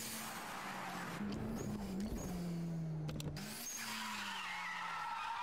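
Two Toyota AE86 Eight-Six cars race in Initial D, tires skidding and squealing over a rising and falling engine whine, with sharp whooshes and a brief break before the engine note sweeps back in, loud and close.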